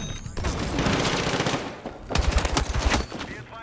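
Shotgun blasts in a first-person shooter game, a dense run of loud booming shots with a brief gap, then a second tight cluster of heavy reports.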